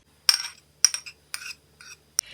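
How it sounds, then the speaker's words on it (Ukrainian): Semolina being mixed with melted butter in a bowl, heard as four or five distinct clinks and scrapes of a spoon against the dish in an otherwise quiet room. "До манки додаємо розтоплене масло. Ось так. Перемішую."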